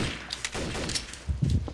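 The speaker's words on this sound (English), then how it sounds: "You hear those gunshots? That's people dying." Rapid gunfire from the online shooter Trouble in Terrorist Town crackles in short bursts, closing with a louder, thumping volley, all heard alone without talk.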